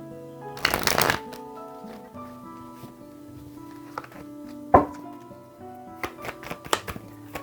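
Tarot cards shuffled by hand, a loud riffling burst followed by scattered softer flicks and taps, close and intermittent over a quiet tonal background.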